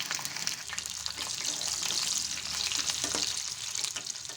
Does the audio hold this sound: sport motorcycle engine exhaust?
no